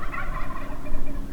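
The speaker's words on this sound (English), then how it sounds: "Those birds are still gobbling well." A wild turkey gobbles on Nebraska public land, a rapid warbling burst that rises and falls, with a second gobble following, heard alone outdoors.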